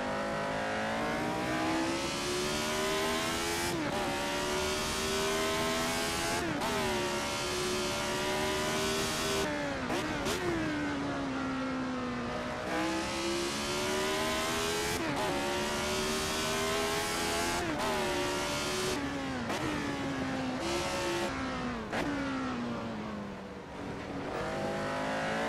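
Race car engines in a retro Formula 1 racing game, chasing Ferraris, scream through repeated rising revs with abrupt drops at each gear change, loud and close for the whole stretch with no talking.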